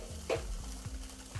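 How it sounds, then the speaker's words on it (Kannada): Ghee tempering poured into boiling kootu in a home kitchen, a brief sizzle followed by soft stirring and bubbling, close and fairly quiet. "ಈ ಒಗ್ಗರಣೆನ ಕುದಿತಿರುವಂತಹ ಕೂಟಿಗೆ ಹಾಕಿದ್ರೆ ರುಚಿಕರವಾದ ಕೂಟು ರೆಡಿ ಆಗುತ್ತೆ"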